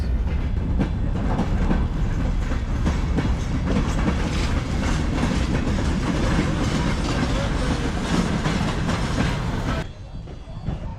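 Continuous rhythmic clickety-clack of a rideable train rolling over rails in a video game, loud and steady, with faint talk underneath before it cuts off near the end.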